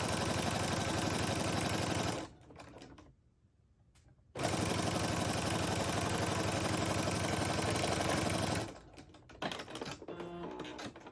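A sewing machine stitches shelf liner onto fabric in an X pattern, a loud, steady close-up whirr that pauses briefly, runs again for several seconds, then stops.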